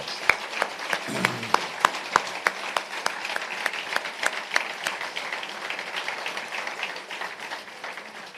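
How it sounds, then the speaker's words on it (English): Audience at a university Charter Day ceremony applauds honoree Una Dyer, steady broadband clapping with sharp individual claps standing out, sustained throughout and gradually thinning toward the end. "please join me in giving Una Dyer another round of applause"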